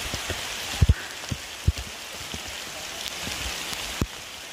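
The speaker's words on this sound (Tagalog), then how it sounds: "So ito, tuloy lang kahit maulan." Steady rain pouring at Macagba waterfalls, a dense continuous hiss with scattered louder drops and taps close by.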